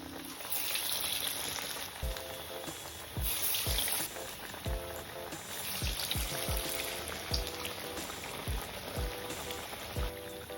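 Alasanda and spinach vadas frying in hot oil, a steady dense crackling sizzle throughout with repeated soft knocks of a utensil against the pan.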